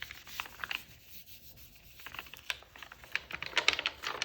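Paper is rubbed by hand onto a gel printing plate for an image transfer, giving soft, close, irregular scratchy strokes and light taps at low level with no talk.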